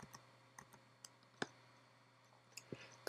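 A computer keyboard key is pressed while working in 3D software, giving sparse, faint, sharp clicks scattered over a quiet background hum.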